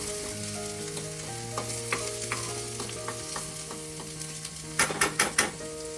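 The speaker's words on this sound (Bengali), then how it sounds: "পেঁয়াজ আর রসুনটা ভালো করে ভাজা হতে থাক" Onion and garlic fry in a pan with a loud continuous sizzle, several scraping stirs near the end and a low hum underneath.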